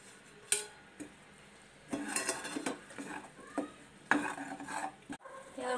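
Roasted coconut is stirred into sweetened poha (aval vilayichathu) in a pan, giving close, irregular bursts of scraping, scuffing and spoon-on-metal clatter with brief pauses between strokes and no talking.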